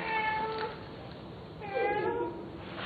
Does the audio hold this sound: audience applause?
no